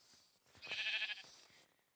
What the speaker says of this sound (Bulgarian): О, овца.